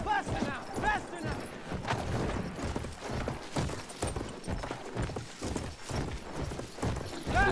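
Horse galloping in Battlefield 1, a rapid run of hoof clip-clops pounding steadily throughout, with game mechanisms and a brief whinny-like tone early, while players talk over it.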